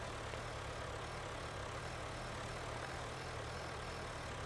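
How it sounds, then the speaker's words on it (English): Tractor engine idling in a farming survival video game, a steady low rumble that holds evenly throughout at a moderate, close level with no talk over it. "I don't know if you can hear the tractor."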